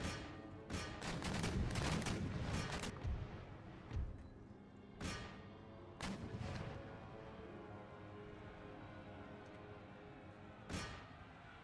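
Cannon and musket volleys from a Balkans battle in Empire: Total War: a dense, rolling crackle of gunfire and booms up front, thinning into scattered sharp shots and distant thuds.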